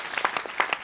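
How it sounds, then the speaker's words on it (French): Brief applause from a small audience at a round-table study day, a few distinct hand claps over a faint background, moderately close. "Je pense qu'on peut l'applaudir."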